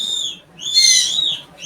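Loud, shrill birds calling at dawn as a sound effect, sustained high chirping cries that swell and fade in close, continuous waves with no voices.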